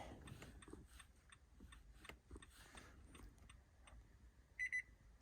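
A short electronic beep from an Autel IM508 key programmer, two quick high tones close together, rings out near the end over faint mechanical clicking and low background rumble, while programming a smart key for a 2013 Nissan Altima.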